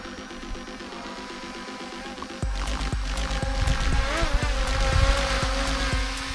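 An M8 Pro drone flies outdoors with a steady, loud buzzing whine that swells as it climbs and speeds up, accompanied by wind noise and sharp clicks.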